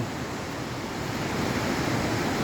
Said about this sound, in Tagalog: dinig mo naman yung ragasan ng tubig sa laki ng tipak na yan